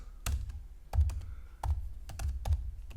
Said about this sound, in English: I'm gonna type the word